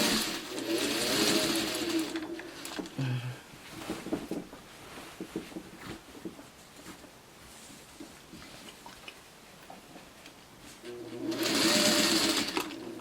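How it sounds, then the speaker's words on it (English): Sewing machine stitching flange binding on a quilt, a rapid close mechanical whirr in a burst at the start, a quieter stretch with handling noises, then another steady burst of stitching near the end. "So now we just finished sewing this in place. And I start with a little back stitch."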